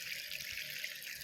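Water poured onto freshly planted, wilting garden plants, a steady splashing stream that runs evenly, close and moderately loud, with nobody speaking.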